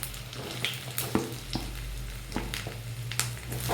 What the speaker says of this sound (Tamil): இப்போ நல்லா ஆயில் காஞ்சிச்சு. இதில் வந்து கொஞ்சமாக நான் கட் பண்ணி வச்சுருக்க வெங்காயம் சேர்த்துக்கிறேன்.